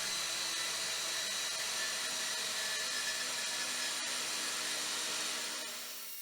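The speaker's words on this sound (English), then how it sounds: "it's just a matter of cutting out 3 bits of flat bar with an angle on each end" A power tool cuts steel flat bar, a loud continuous high-pitched grinding whine held steady for several seconds before it winds down at the end, close up with no talking.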